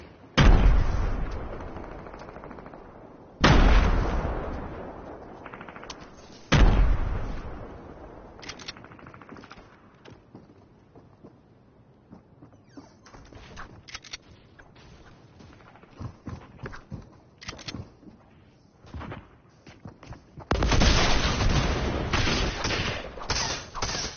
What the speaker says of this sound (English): I'm throwing grenades in.